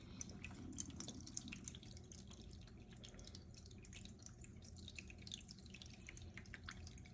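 Water poured from a Tupperware container into a small plastic bin during cat care, a steady splashing and trickling flow that runs without a break, close and fairly quiet.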